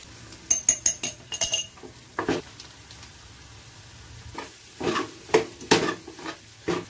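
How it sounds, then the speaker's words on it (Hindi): A spoon stirs turmeric in a cooking pan with a light frying sizzle, giving bursts of metallic clinks and scrapes, close and fairly quiet, with a lull in the middle. "तो अभी डालिए हमने इसमें हल्दी तो हिला के लेते हैं"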